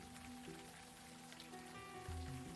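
Rain in the video game Unavowed, a very quiet, steady patter and hiss of drops on surfaces under faint low game music, continuous throughout with no speech.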